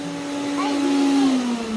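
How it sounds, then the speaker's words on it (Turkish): A household vacuum cleaner runs with a steady, close motor hum and airy whoosh, its pitch sagging slightly toward the end as if powering down. "Süpürgeyi kapatın."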